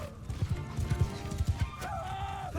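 Horse hooves galloping in the video game Mount & Blade II: Bannerlord, a rapid, rhythmic drumming of hoofbeats at moderate volume, mixed with battle noise and a brief horse-like cry near the end.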